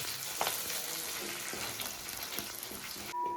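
Onions and curry leaves fry for chicken chukka with a dense, even sizzle that runs throughout, with a few faint stirring taps. The sound is quiet and steady.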